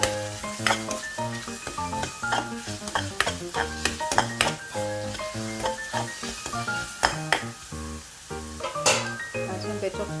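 Clam masala sautés in a pan, a loud close sizzle broken by frequent stirring scrapes and clinks of a utensil against the metal in an uneven rhythm, with no talking.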